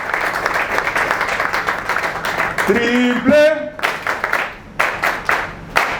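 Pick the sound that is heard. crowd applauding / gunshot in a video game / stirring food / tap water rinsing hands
crowd applauding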